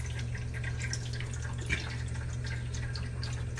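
A cats' water fountain bowl with moving water gives steady soft trickling and light dripping, close and even, with one brief louder drip midway and a low hum underneath.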